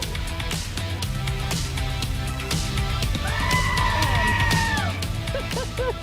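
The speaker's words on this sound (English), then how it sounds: "The Screaming Goat" A screaming goat sound effect played on a farm radio show, a long, loud, strained bleating cry that rises and holds for about two seconds over a busy background of music and broadcast noise.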